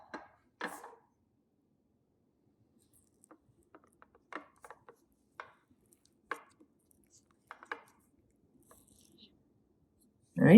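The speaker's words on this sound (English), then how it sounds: "just kind of scoop out my wax from the core" Wax being scooped out of a candle's core, heard as sparse, short scraping and tapping scrapes spaced a second or so apart, close and quiet, with a louder knock at the very end.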